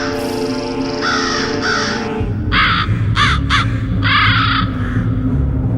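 A crow caws several times in short harsh bursts, loud and close, over a low droning background.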